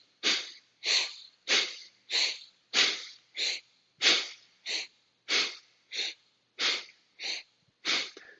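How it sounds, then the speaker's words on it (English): Rapid yogic breath of fire, fourteen sharp, forceful nasal exhales in a steady rhythm about two per second, close and clear with short silent gaps between. "This is often referred to as breath of fire."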